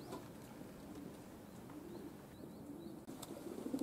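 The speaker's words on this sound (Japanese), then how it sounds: "飛び回っている鳩と屋根の上で待機している鳩" Soft pigeon coos repeat outdoors against a steady hiss of ambient noise, with occasional faint chirps.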